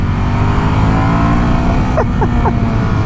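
A Ducati Monster 1200 S motorcycle pulls hard under acceleration, its engine droning loud and close throughout, with a few quick rising shifts in pitch near the end.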